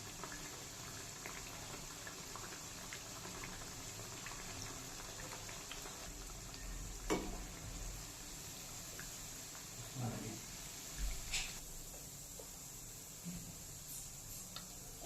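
Khajoor sweets fry slowly in oil, giving a soft, steady bubbling sizzle that stays faint and even, broken by a few light clinks and taps.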